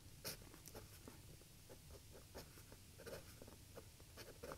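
A TWSBI Eco fountain pen writing on paper gives soft, close scratching strokes in short bursts with brief pauses, over a faint steady background hum.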